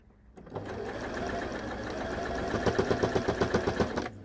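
A sewing machine stitches the strap of a Morsbag fabric bag. It hums steadily and close for a few seconds, then breaks into a fast, even run of rhythmic needle thumps before stopping.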